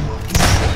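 A single dull gunshot-like thud in the Prop Hunt video game, aimed at boxes, landing loud and close in a short burst over low background rumble; no one speaks.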